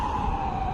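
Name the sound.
ambulance siren passing outside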